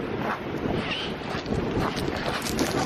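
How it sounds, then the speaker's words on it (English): Strong seaside wind gusts buffet the microphone in a continuous roar, with faint surf or water noise beneath and no speech. "It's so windy."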